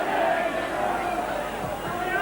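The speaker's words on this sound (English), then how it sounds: "Crowd begin to get behind them." A rugby league stadium crowd at St Helens v Bradford Northern roars steadily in a broad, distant wash of cheering and shouting beneath a commentator's voice.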